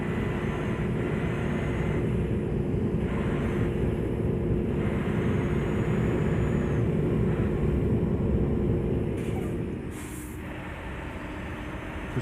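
Wind noise inside the truck game Euro Truck Simulator 2 roars as a loud, steady broadband rush over a low engine rumble, easing slightly near the end with a couple of faint higher whooshes.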